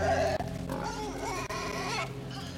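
A pig grunts repeatedly in the video game Inside, the snorting calls sitting over steady game music and ambience, with two brief dropouts breaking the sound.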